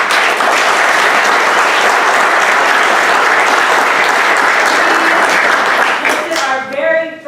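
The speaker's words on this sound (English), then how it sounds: "Let's give him a round of applause." Loud, sustained applause from a crowd at an outdoor spring festival, steady clapping that tapers off near the end as a few voices come through.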